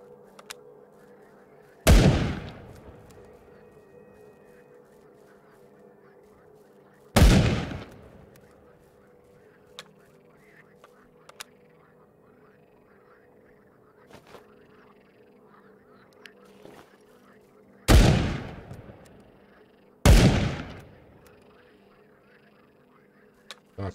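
Four loud, sharp gunshots from a rifle in the survival shooter Will To Live Online, spread several seconds apart, each ringing out with a short decay over a quiet outdoor backdrop of soft ambience and faint croaking.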